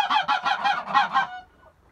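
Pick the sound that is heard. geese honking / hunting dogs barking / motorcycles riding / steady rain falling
geese honking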